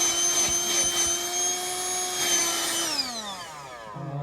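A car tyre inflator with a vacuum cleaner mode runs with a steady, high motor whine, then winds down in pitch near the end as it slows, with no voices over it.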